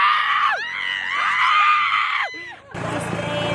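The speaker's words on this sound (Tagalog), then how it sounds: "Hindi ko kinaya yung sigaw ko." A person screams loudly and continuously during a sand dune ride at Paoay Sand Dunes, the wavering high-pitched yell breaking off near the end as engine and wind noise take over.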